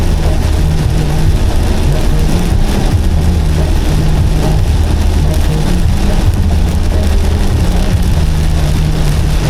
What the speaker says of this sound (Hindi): फिर तेज बारिश।